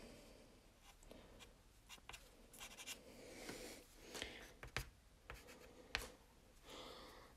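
Pastel crayon scratches and scrapes steadily across paper while tulips are drawn, a close, dry, irregular rubbing with short strokes and taps and no voices.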